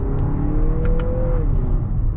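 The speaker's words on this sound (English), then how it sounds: "see what this turbo can do." A turbocharged 2022 Lexus NX 350 F Sport pulls hard under acceleration, its engine drone rising steadily with a brief higher whine over a heavy low rumble, heard close from inside.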